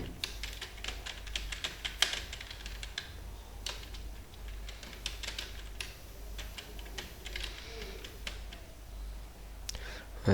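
Computer keyboard keys tapped in steady bursts while text is entered in a Microsoft Word document, close and fairly quiet over a low background hum.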